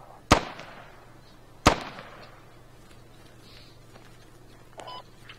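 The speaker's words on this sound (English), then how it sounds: "Somebody's shooting, what's going on?" Two sharp, distant gunshot cracks with echoing tails in the military shooter game Squad, about a second and a half apart, followed by quiet ambient hum and a faint later pop.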